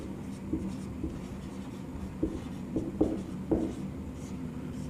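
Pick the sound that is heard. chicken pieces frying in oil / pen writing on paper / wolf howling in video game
pen writing on paper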